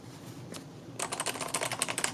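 Soft, rapid keystrokes on a Kensington MK7500F QuietType Pro silent mechanical keyboard, clicky but quiet, starting after a brief pause and continuing in a quick irregular patter, close up.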